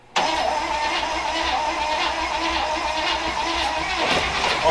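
An old Willys wagon engine cranks briefly and catches, then runs at a steady, loud, rough idle close by with a mid-pitched mechanical roar for several seconds.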